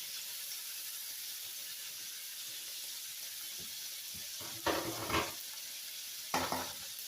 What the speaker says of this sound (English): Now I'm putting it back in the pan